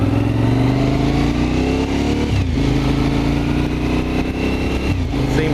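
A twin-engine motorcycle runs loud and close, its throttle blipped and revved so the engine note rises, dips around the two-second mark and climbs again, steady with no talk over it.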